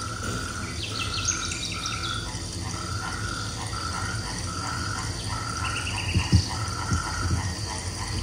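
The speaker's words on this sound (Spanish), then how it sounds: "Si hay agua, las ranas." Frogs croaking at night near water, a chorus of repeated rhythmic calls over a steady insect drone, with a few louder nearby croaks and knocks toward the end.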